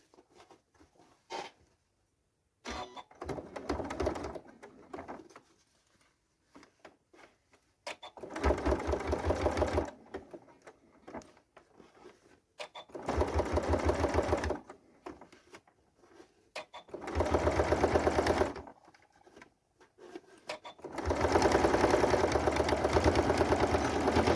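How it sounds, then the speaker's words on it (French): Sewing machine topstitching along a fabric seam on a bag, running in several bursts of steady rapid stitching separated by short pauses, close and clear with no talk. "je retourne mes tissus sur l'endroit et je vais surpiquer le long de cette couture"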